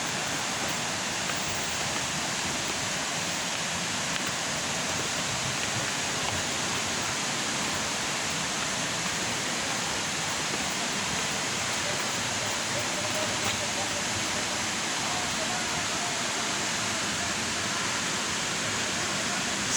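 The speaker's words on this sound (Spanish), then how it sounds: "Ese es el paisaje que se vive aquí en la cascada." A waterfall at Chilchotla, Puebla, Mexico roars as a steady, broadband rush of falling water, constant and close for the whole stretch.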